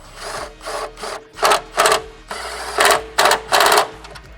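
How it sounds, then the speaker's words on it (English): Bursts of rapid ratcheting as a socket wrench tightens fender brace bolts on a Nissan 370Z, roughly eight short clicking runs close by in a quick uneven rhythm with brief pauses between. "then we're just gonna tighten everything down"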